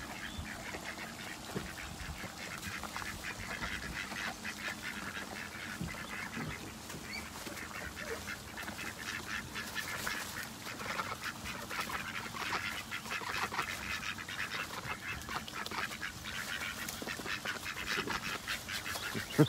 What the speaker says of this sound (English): I'll show you the ducks over